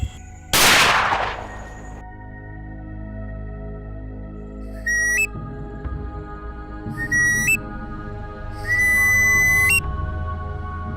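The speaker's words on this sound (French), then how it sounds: "Ces coups de sifflet indiquent que le chasseur a atteint sa cible." A loud sharp crack from a hunter's gunshot among Senoufo dozo hunters in Korhogo, followed by three separate shrill whistle blasts, each a steady rising tone, over a low rumbling background.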